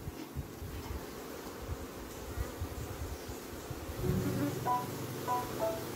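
Africanized honey bees at a hive being smoked before a super is removed, a steady low buzzing swarm hum throughout with some rustling, growing slightly louder near the end.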